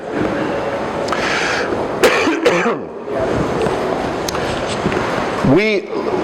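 A person coughs and clears their throat a couple of times against a background hum, with a rough burst near the start and another near the end.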